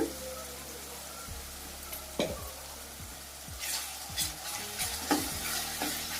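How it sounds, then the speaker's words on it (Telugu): Onions with ginger garlic paste fry in a pan with a steady close sizzle while a spoon scrapes and stirs now and then, for a mushroom masala curry. "ఉల్లిపాయలు కొంచెం కలర్ మారేంత వరకు వేయించుకున్నాం"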